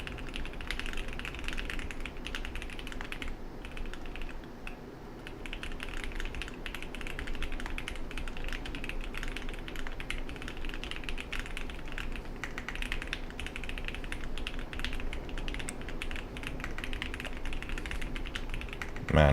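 Fast typing on a computer keyboard during a coding contest warm-up, a dense and steady stream of quiet key clicks that runs the whole time with no pauses.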